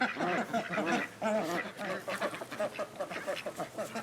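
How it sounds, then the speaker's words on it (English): Ducks on a homestead quack loudly and repeatedly nearby in rapid overlapping bursts, a noisy chattering flock calling almost without pause. "Those ducks are crazy. Yeah, I'm sure you can hear them."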